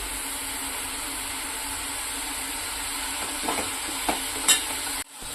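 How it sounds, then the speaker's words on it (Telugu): Onion paste with masala, curry leaves and chili powder frying in a pan for a fish curry, a low continuous sizzle with a few scraping stirs near the end before it cuts off sharply. "అలాగే కూరకి సరిపడా కారం వేసుకున్నట్టు ఒకసారి బాగా ఫ్రై చేసుకున్నామండి"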